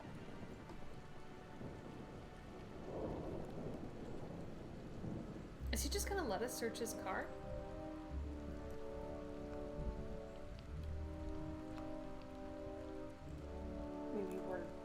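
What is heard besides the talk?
rain in video game Nancy Drew: Midnight in Salem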